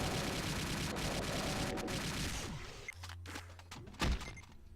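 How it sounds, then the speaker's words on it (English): Rapid plasma rifle fire in Doom pours out in a dense, steady stream against demons and spectres, then gives way to scattered thuds and a final heavy impact. "run in with the plasma rifle, fall in, and immediately just start shooting all these demons and spectres"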